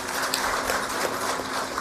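An audience applauds at a Lokmat-covered event where RSS chief Mohan Bhagwat speaks on Hindutva and national integration. The clapping is dense and steady, filling the hall at moderate loudness with no voices over it.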